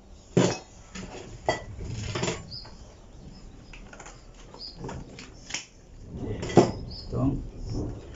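Pruning tools cut into a bougainvillea root being trained for bonsai, giving several sharp snips and clicks spaced irregularly with quieter handling rustle between them, close and fairly faint overall.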